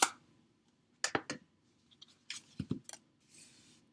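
Rubber stamp pressed onto card stock to print a palm tree design, heard as a series of short, close tapping and clicking knocks in small clusters, with a soft brushing hiss near the end.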